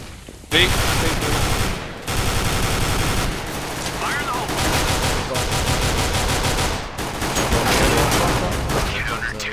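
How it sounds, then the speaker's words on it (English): Rapid gunfire and grenade bursts in a Counter-Strike match on the dust2 map, with smoke and flashbang grenades thrown, loud and dense throughout, with players shouting over the action. "Laying down smoke! Deploying flashbang!"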